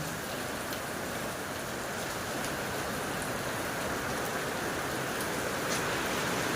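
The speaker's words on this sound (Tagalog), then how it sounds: "Grabe ang ulan ngayon sa kahangin." Heavy rain driven by strong gusting wind, an unbroken dense hiss of downpour with faint ticks of drops striking a metal roof, steady and loud throughout.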